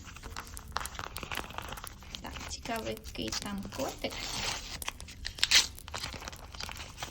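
A paper surprise packet from a cat-themed collection is torn and crinkled open up close, with scattered rustles and a sharper rip near the end, while someone talks over it.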